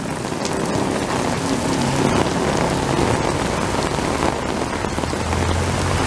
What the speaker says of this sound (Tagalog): Yan ang umuulan.